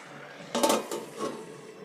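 A lid is set onto a cooking pot in a home kitchen: a single close metallic clatter followed by a softer settling knock, brief and fairly faint against quiet background.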